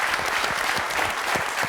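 A studio audience on the French TV talk show C'est mon choix applauds its hostess Lorraine, with dense, even clapping that holds steady throughout at close range.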